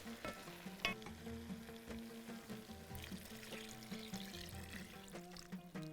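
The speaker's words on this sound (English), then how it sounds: "Now I'm going to add water." Water poured into a hot pan on mid heat while making a Bahraini dish, with splashing, bubbling sizzle and stirring clatter, fairly faint and close, with occasional clinks.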